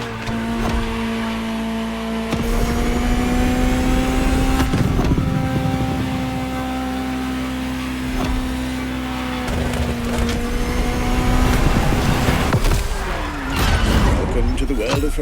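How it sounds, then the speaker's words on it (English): A Ferrari supercar engine drives in the Motorfest racing game, holding a steady, loud droning tone with slight pitch shifts throughout. Someone talks over it the whole time. "Just listen to the car you're driving. She'll tell you her story herself."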